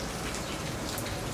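Steady rain falls around someone walking a New Orleans street in wet flip-flops, a continuous close wash of drops and patter with no talking.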